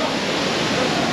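Water falls at the Umbrella Waterfall, a steady, loud, broadband roar of cascading water with no speech heard.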